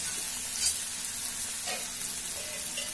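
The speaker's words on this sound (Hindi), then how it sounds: "अब मैं इसमें 1 बड़ा साइज के प्याज को बारीक काट कर मिला दिया है तेल में।" Finely chopped onion goes into hot oil with a pinch of asafoetida in a kadai and fries with a soft, steady sizzle and faint crackle, heard alone at low volume.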